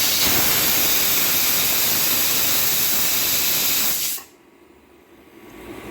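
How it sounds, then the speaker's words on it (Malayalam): A pressure cooker of vegetable biryani vents a loud, continuous rushing hiss of steam for about four seconds, then cuts off abruptly, leaving a faint hum. "നമ്മൾ ഇവിടുത്തെ കുക്കറിൽ ഒറ്റ വിസിൽ വന്നാൽ മതി."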